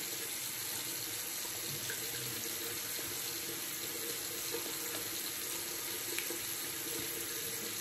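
A tap runs steadily while shaving soap is lathered with a badger brush, a constant close hiss of flowing water with no talk over it.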